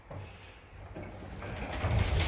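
A garage door with a pull cord is dragged along its track, giving a steady scraping squeal that grows a little louder over two seconds, close by with no talk.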